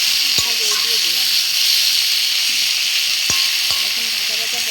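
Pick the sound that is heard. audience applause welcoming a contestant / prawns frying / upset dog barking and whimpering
prawns frying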